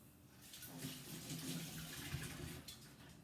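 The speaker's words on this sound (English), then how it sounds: "I'm gonna just wash my hands quickly." Hands being washed under a running tap in a kitchen, a soft continuous splash of water near but faint and alone, with no talk.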